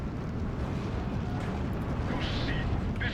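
Distant artillery barrages rumble under a dense, continuous low roar during a Steel Division 2 battle, with no single sharp impact standing out and a couple of brief high hissing effects near the end.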